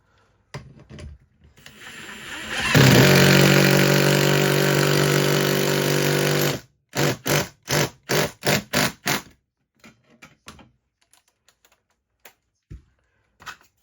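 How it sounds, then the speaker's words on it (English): An impact drill fitted with a 10 mm socket drives bolts into a TV wall mount bracket: one long, loud whirring run, then a quick series of sharp hammering bursts, followed by scattered faint clicks. "It's a 10 millimeter, so I'm using 10 millimeter socket and my impact drill"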